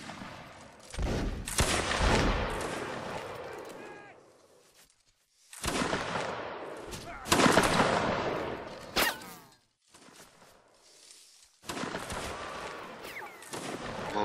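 Repeated musket volleys and scattered gunfire from a Napoleonic Wars battle in the video game Mount & Blade: Warband, loud crackling bursts in several waves separated by brief lulls, with occasional voices in the background.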